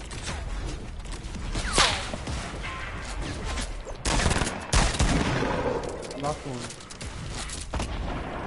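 Video-game gunfire rattles in bursts at the players, sharp repeated shots and volleys over a constant noisy background, with a player's voice breaking in around the middle.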